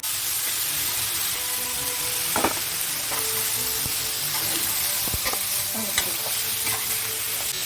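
Cashews, ginger and garlic sizzle and fry in a pan with tomato for shahi paneer, a steady close hiss broken by occasional clinks and scrapes of stirring.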